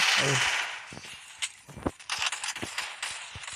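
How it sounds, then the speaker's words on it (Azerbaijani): Gunfire in a video game: a noisy burst opens, then several sharp, separate shots crack at uneven intervals, fairly quiet and close, with no talk. "2 dənə güllə vuraq görək"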